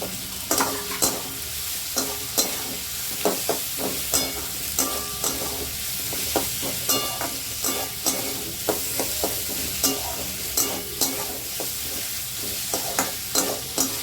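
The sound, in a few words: onion and capsicum frying in a pan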